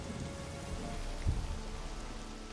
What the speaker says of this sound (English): Plus it's raining outside.